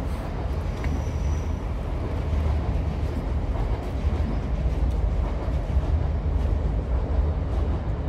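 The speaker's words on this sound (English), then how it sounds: "Got a train." A train rumbles past nearby on City Road in Newcastle upon Tyne, with a continuous, loud low roar and rattling, sustained throughout without pause.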